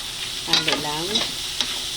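Soup being stirred in a pot just after black pepper, fish sauce and MSG go in, a few soft scraping strokes close by under a low bubbling hiss, no talking.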